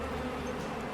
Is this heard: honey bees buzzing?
yes